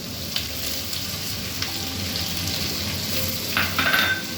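Onions and tomatoes frying in a pan for a mixed vegetable sabzi with ridge gourd, a continuous loud sizzle with occasional spatula scrapes and light utensil clinks.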